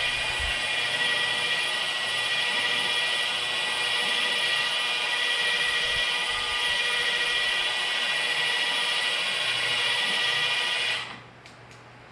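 A Milwaukee 2738-20 polisher runs at low speed on a car hood, giving a loud, steady motor whine that holds for about eleven seconds and then cuts off abruptly.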